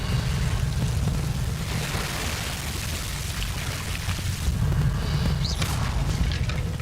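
An Incendio fire spell cast in Hogwarts Legacy gives a steady, roaring whoosh of flame with heavy low rumble and crackle, holding loud and even for several seconds with no talking.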